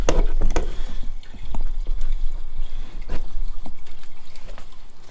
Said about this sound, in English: Could you guys hear that water?